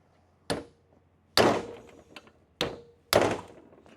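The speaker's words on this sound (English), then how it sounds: "I will just take a socket and extension and basically just hit it with a hammer" Four sharp metallic strikes at uneven intervals, a hammer hitting a socket and extension to remove valve springs on an LS engine, each with a short ringing tail; no talking.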